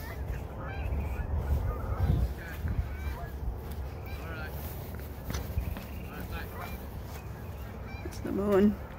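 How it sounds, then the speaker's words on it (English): Canada geese honk in a scattered chorus at a middle distance by a lake while a person talks nearby, with footsteps and a louder honk near the end. "Bunch of Canadian geese out there."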